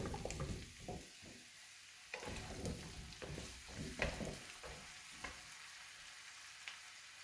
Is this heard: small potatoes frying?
yes